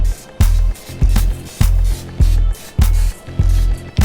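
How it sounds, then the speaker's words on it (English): Cooking spray is sprayed in a series of short, loud hissing bursts, about seven in a row at a steady rhythm, over floured buttermilk chicken wings before air frying. "We want that cooking spray on there."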